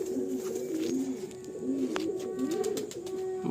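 Pigeons coo in soft, rolling low calls that repeat through the moment, close and clear over a steady background hum.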